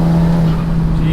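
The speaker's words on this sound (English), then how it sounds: "DSG bang with the API exhaust." Volkswagen Golf GTI Edition 30 with a DSG gearbox and API exhaust, a single loud close-up exhaust bang on the gearshift over a steady droning engine note, brief and forceful.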